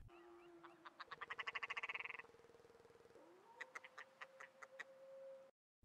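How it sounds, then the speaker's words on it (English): Synthetic-sounding ptarmigan calls in the video game The Long Dark: a rapid run of rising clucks, then a steady tone with a series of sharp chirps, fairly close and clear. "They'll make very distinct clucking and chirping sounds."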